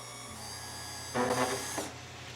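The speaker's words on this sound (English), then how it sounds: "We're gonna drill it out." A small drill bit whirs into a model airplane part, a faint steady electric hum that swells into a brief buzzy grinding burst of under a second before settling back to the motor's drone.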